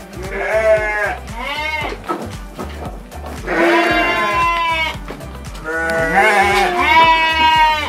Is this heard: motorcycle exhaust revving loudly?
no